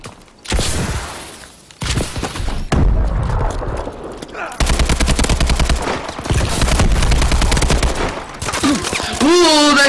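Heavy gunfire in a Black Ops 2 multiplayer match, loud bursts of automatic and rapid shots with booming impacts, dense and continuous, ending with a swooping sound effect.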